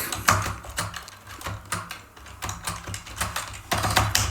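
Fast, irregular keystrokes on a computer keyboard as code is typed for a JavaScript image search app, close and clear with short pauses between bursts of clicks.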